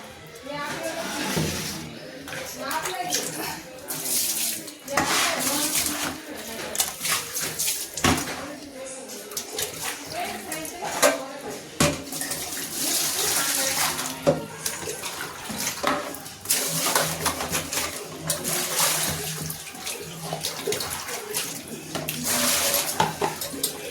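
Clothes are washed by hand, with water sloshing, splashing and dripping in uneven bursts and wet fabric slapping nearby, while a voice talks over it.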